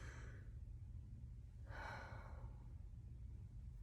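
A slow, deep relaxation breath, with a soft airy rush of breath near the start and a longer exhale midway, close and quiet over a steady low hum, with no talking.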